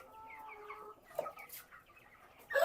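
Chickens cluck softly in a poultry farm shed, a run of quiet, close calls with a few sharper squawks and rustles toward the end.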